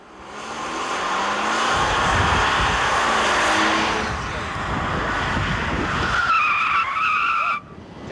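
Car braking hard and skidding on a skid pad during a 1989 driving course, tires squealing loudly for several seconds with a wavering high screech near the end, wind buffeting the microphone throughout.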